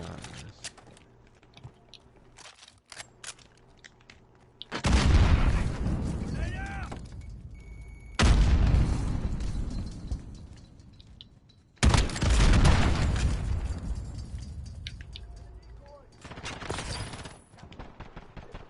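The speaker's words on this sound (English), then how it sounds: "Rockets again on the spawn." Rocket explosions land at a spawn area in a shooter game, with three heavy booming blasts spaced several seconds apart over quieter gunfire and mechanical game sounds, and players chatting in between.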